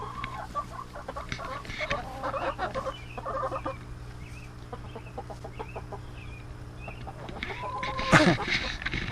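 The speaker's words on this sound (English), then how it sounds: "These chickens are just burying themselves in this loose dirt." Chickens dust bathing in loose, sandy Central Oregon dirt give soft clucks and murmurs through the whole stretch, with a louder squawk near the end over a steady background hum.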